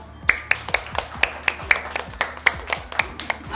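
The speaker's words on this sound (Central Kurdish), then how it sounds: "چەپڵە بۆ نارە" Children in a school classroom clap for Nara, a series of about a dozen sharp, distinct claps in a loose, uneven rhythm, close and clear against a quiet room.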